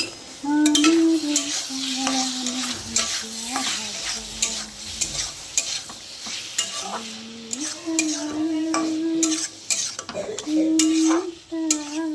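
Spices being stirred and fried in a pan for a Bengali masala, with a steady sizzle under repeated scraping strokes of a utensil against the pan, close and continuous, along with occasional clinks of cookware.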